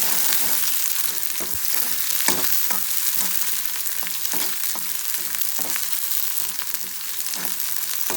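Tempering in ghee with curry leaves for Andhra-style palak pappu: a steady, loud sizzle and crackle right up close, with irregular sharp pops spread through the whole stretch and no voices.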